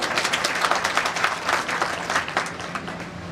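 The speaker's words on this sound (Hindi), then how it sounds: "विधायक महोदय के लिए एक बार जोरदार ताली बजाओ आप लोग" An audience bursts into loud, close clapping for an MLA seated among them at a motivational education event, a quick burst of rapid, overlapping claps that fades slightly by the end.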